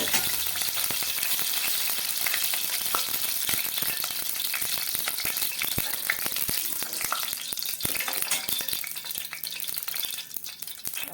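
Spices crackle and pop in a ladle of hot oil for shahi paneer tempering, a loud, continuous sizzle with sharp spits throughout, close up and without voices.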